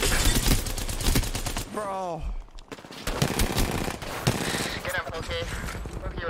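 Rapid bursts of automatic gunfire fill a firefight in Apex Legends, loud and close and nearly continuous through the whole stretch. Excited players talk over the shooting.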